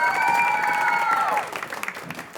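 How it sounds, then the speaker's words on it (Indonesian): Studio audience applauding a quiz team on a television quiz show, clapping and crowd noise that starts under a sustained tonal sound and tapers into scattered claps. "Kita berikan tepuk tangan untuk Regu B."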